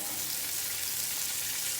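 Sausage and onions sizzle on a hot griddle in a dense, steady hiss that carries evenly for under two seconds with no voices.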